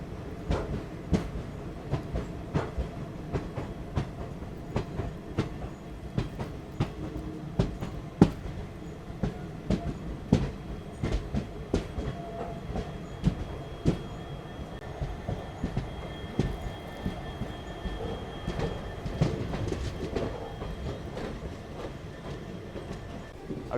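A passenger train runs on the rails near Kovilpatti railway station in foggy weather, a steady rolling rumble broken by repeated sharp wheel clicks and faint squeals, with no voices.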